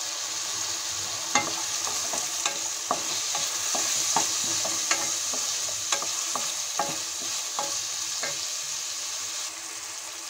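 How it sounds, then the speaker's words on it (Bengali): Spices with turmeric, tomato and salt sizzle in a pan for a potato curry while a spatula stirs them, giving steady frying hiss broken by repeated scraping taps, close and with no talking. "সবগুলো মশলা ভালোভাবে ভেজে নিতে হবে।"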